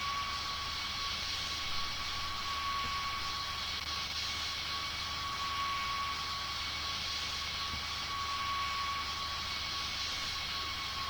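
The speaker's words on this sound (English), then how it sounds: "Then I'm going to taxi to the gate. So we're going to taxi about 20 knots." Jet airliner taxiing to the gate at about 20 knots after landing with reverse thrust, a steady loud engine roar with a high whine heard from inside the cabin, unbroken and even throughout.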